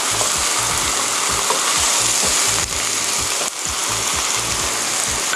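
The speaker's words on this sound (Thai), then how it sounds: "เดี๋ยวเราจะผัดต่ออีกแป๊บหนึ่งค่ะ ให้น้ำปลาเริ่มละลายแล้วก็เริ่ม เข้ากันค่ะ" Udon and crab sticks stir-frying in a hot pan with a seasoning of sugar, mirin, soy sauce, fish sauce and water, giving a steady loud sizzle with repeated scraping strokes of a utensil in an uneven rhythm.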